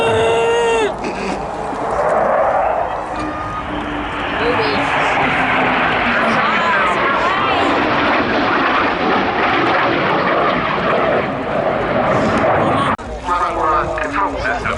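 Eurofighter Typhoon jet flying a display at Cosford Airshow 2024, a loud sustained roar that swells and shifts as it passes, with voices of spectators talking over it.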